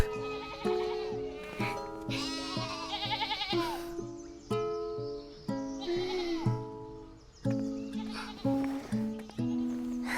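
Repeated bleating sheep calls from the video game Starsand Island sound over steady game music, several short wavering bleats spread across the stretch, fairly close and clear.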